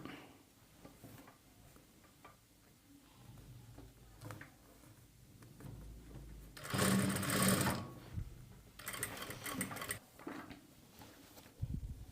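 A sewing machine stitches piping onto a blouse piece in two short, fairly quiet bursts of rapid whirring stitches, separated by a pause and surrounded by soft handling noise.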